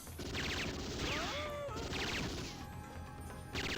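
Gunfire and crashing impacts in the Wii game Metal Slug Anthology, bursts of rapid shots and smashes over a busy layer of game music and effects, loud throughout.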